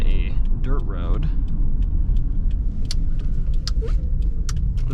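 A 2015 Subaru Forester with 113,000 miles drives along, its steady engine rumble and road noise loud and close inside the cabin, with light rattles and clicks and a voice speaking briefly over it.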